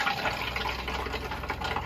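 An RV camper toilet in a bunkhouse travel trailer fills with water as its front foot pedal is partly pressed, giving a steady, close, continuous trickle and gurgle that runs without pause and with no one talking.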